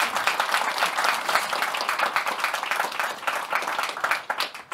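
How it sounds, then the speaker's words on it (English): An audience at an International Women's Day event claps for a speaker, a lively sustained round of applause from a moderate crowd, loud and continuous before tapering slightly at the end. "Everyone give a big round of applause for Marguerite Penrose."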